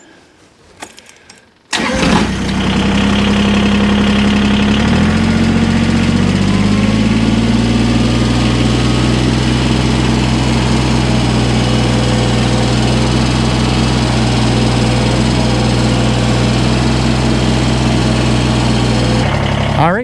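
A Kubota BX23S compact tractor's engine starts after a brief clatter, then climbs to a higher pitch and holds a loud, steady drone at 2,500 RPM close by, with the same tone continuing for many seconds.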